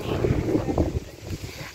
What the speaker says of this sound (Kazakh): жел болып кетті